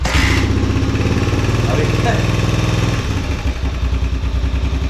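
A 2021 Suzuki DRZ 125 dirt bike starts on the first kick after sitting for a couple of days, then idles with a loud, close, rapid thumping beat.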